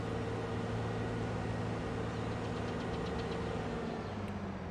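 Tractor engine in Farming Simulator 22, a continuous low droning idle with a steady mechanical hum, close and even in loudness from start to finish, heard alone without voices.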